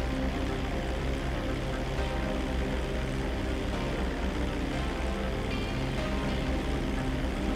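A steady droning in-game airplane engine in GTA V hums throughout, with a dense low rumble and a faint hiss of rushing air, no pauses or talk.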